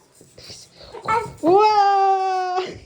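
A household cat gives one long, drawn-out meow close by, following a few seconds of indistinct voices and laughter nearby.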